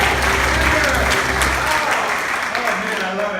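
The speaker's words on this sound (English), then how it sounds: "there's some applause in the back." Applause from the back of a small comedy and music audience, steady and fairly loud for a few seconds, with some voices and a whoop mixed into the crowd noise.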